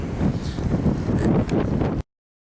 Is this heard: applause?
no